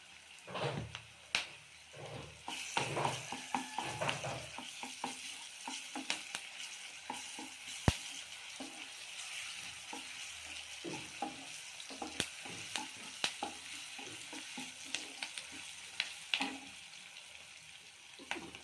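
Onions and ginger-garlic paste fry in oil with a quiet, steady sizzle, broken by scattered scrapes and clinks of a stirring spoon against the pan.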